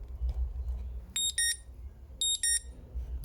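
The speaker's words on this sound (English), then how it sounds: "And the 612 is actually the piezo alarm." A Samsung Galaxy Gio phone's high piezo alarm beeps in two pairs of sharp, short tones, separated by quiet background hum.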